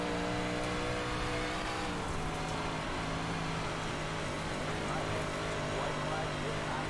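A Dirt 358 Modified race car engine in iRacing at USA Speedway drones loud and continuous, rising and falling as it revs through the corners, with no pause in the roar.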